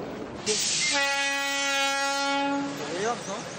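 A train horn blares in one long, loud, steady blast over the rumble of a moving train in Peru's Sacred Valley bound for Machu Picchu, with wheel noise continuing underneath.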